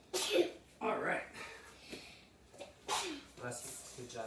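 A child's sneeze bursts out at close range, followed by short breaths and quieter sounds.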